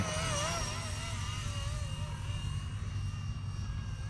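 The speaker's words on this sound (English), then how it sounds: "this helicopter is just really cool. I mean, super fast." A Blade 230 S RC model helicopter whines and buzzes continuously with a high, wavering rotor pitch that rises and falls as it maneuvers, steady and fairly loud.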